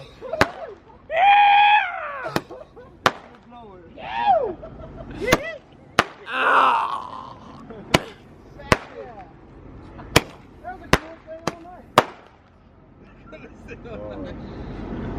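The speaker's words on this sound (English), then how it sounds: "That was so much cooler than a normal Roman candle." A firework larger than a normal Roman candle goes off, with whistling, crackling bursts followed by a series of sharp, loud bangs spaced irregularly, while people shout and react nearby.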